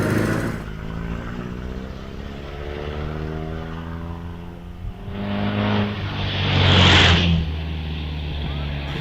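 A 1913 Vauxhall 30-98 vintage car kangaroos off the line at a Prescott hill climb, its engine jerking before the car pulls away with a rising throaty roar and a loud burst of revs, under a commentator's voice.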